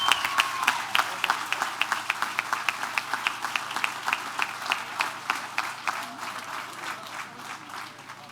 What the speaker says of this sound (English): A big round of applause for these great folks we have in the state of Florida representing us.